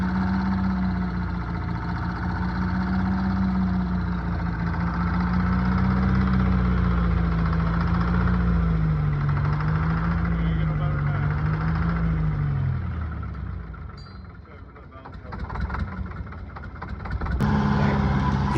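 An old Insley dragline diesel engine, its stuck fuel rack freed and injector fixed, runs with a low steady rumble that dips and wavers, then drops away before picking back up near the end.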